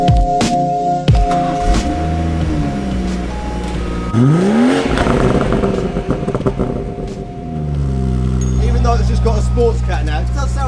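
A BMW M3 GTS-upgraded 500 hp engine revs hard up and down close by, with rising and falling harmonic sweeps, a loud deep drone and people talking over it.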